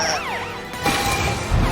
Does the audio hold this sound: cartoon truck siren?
yes